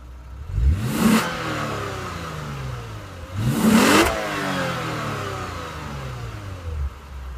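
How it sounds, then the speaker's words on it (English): Lexus RC350 F-Sport engine revved twice from outside the car, each blip a sharp rising roar with crackly exhaust that settles back to a low idle burble, with a faint third lift near the end. "And I'll go outside and give us a couple revs."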